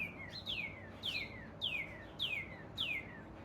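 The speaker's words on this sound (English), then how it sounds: "Bird!" A bird calls outdoors five times in a regular rhythm, each chirp a clear descending whistle, fairly near and distinct over quiet background noise with no talk.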